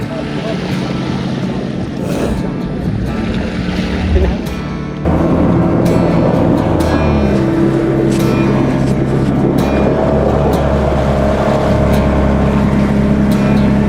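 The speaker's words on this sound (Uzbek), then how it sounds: "Shu bitta motor olib ketyapti o'zida." A motorboat engine drones on a river near Termez, a loud continuous rumble that grows fuller and steadier partway through, heard close up with wind and water noise around it.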